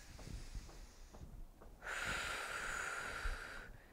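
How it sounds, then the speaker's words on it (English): A single deep breath taken during a seated seniors' resistance-band workout: a soft inhale, then a longer, louder exhale with a steady airy rush lasting about two seconds, close and clear with no talk over it. "One more deep inhale, exhale."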